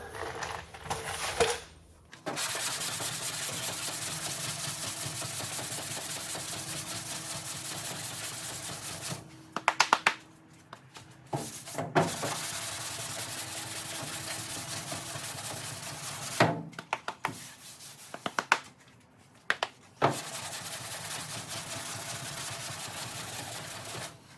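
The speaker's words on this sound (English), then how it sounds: "As you guys can see here, I'm sanding." Long, even strokes of hand sanding body filler on a car panel rasp continuously, broken by a few short pauses and taps between passes, fairly close and with no talking.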